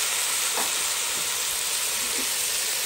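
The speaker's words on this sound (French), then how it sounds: "Les tomates vont partir dans la marmite." Tomatoes cooking in a pot over the heat, giving a steady broadband sizzle and hiss close by with a few soft stirring knocks, no talking.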